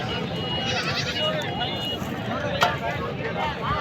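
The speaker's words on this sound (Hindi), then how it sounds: "ये बकरी है।" A goat bleats amid a busy livestock market before Eid qurbani in Tando Muhammad Khan, wavering cries rising over constant crowd chatter and people talking nearby.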